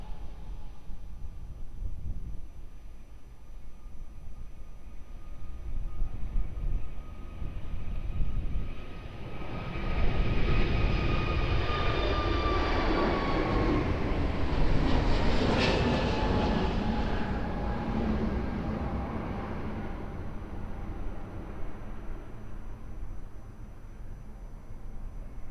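An airliner takes off from runway 02 at Lisbon Airport, a broad jet-engine roar swelling from a distant rumble to a loud peak mid-way before slowly fading as the aircraft climbs away.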